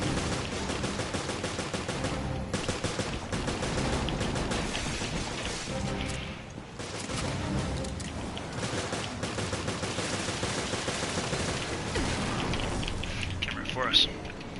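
Gunfire in the Resident Evil Revelations video game, dense rapid shots rattling almost continuously for the whole stretch with brief gaps and a sharp crack near the end, loud and close.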